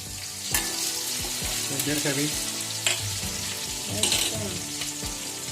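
Chopped ridge gourd frying in hot oil for a home-style curry, with a steady loud sizzle and sharp clinks of a spoon stirring the pan at intervals, no voices.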